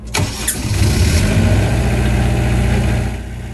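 Onan Marine 13.5 kW generator aboard a 2009 Meridian 441 boat starting up and settling into a steady, loud, even running drone with no talking.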